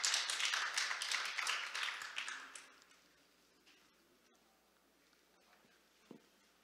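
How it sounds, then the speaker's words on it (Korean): Audience applause at a conference welcoming a speaker from LG Electronics, moderately loud and steady for about two and a half seconds before fading into a quiet room with a faint knock near the end. "여러분 큰 박수로 환영해 주시기 바랍니다"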